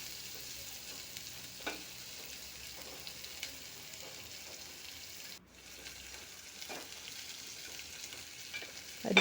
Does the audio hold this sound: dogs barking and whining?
no